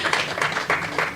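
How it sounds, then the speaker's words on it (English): A crowd claps together in a steady, dense patter of hands that holds for a moment at a moderate level. "Yeah, we can give him another round of applause."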